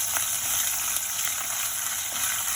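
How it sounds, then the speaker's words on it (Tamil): Cashews frying in hot oil with mustard seeds popping, cooked for broken wheat upma: a steady close sizzle with scattered small pops throughout. "கடுகு வெடிக்கும் போது நம்ம கொஞ்சம் போல் முந்திரி பருப்பு சேர்த்துக்கலாம்"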